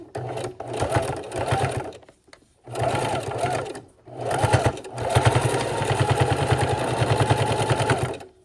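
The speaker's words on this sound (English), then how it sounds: "So I'm going to take this and put it into our sewing machine." Home sewing machine stitching across a purse strap, running in rapid rhythmic bursts with short pauses between runs and then a longer continuous stretch, close and clattering.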